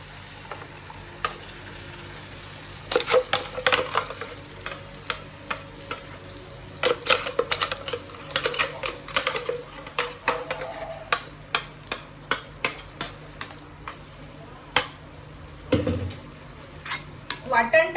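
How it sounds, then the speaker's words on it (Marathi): Ground masala paste frying in oil in a kadhai for a mutton dish, a steady sizzle broken by frequent sharp clicks and scrapes of a spoon stirring against the pan, close and moderately loud. "आपण हे मिक्सर मधून काढलेलं वाटण टाकूया"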